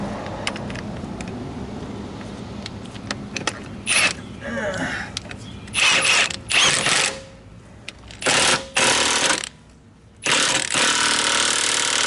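Impact wrench hammering on a rusty front ball joint of a Jeep TJ, loud rattling bursts starting and stopping repeatedly, with clanking mechanical noise between them.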